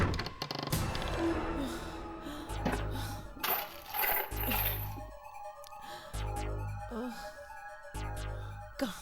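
A key drops and clinks on a hard surface amid bright metallic jingles, with several low thuds and other scattered noises in a tense scene.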